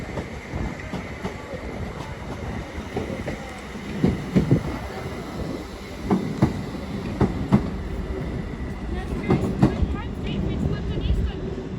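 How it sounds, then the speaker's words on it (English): Class 197 diesel multiple unit pulling out of Crewe station on the West Coast Main Line, a steady low rumble with wheel clatter and faint rail squeals, people talking nearby over the moving train. "197049 as 807010 departs for London Euston."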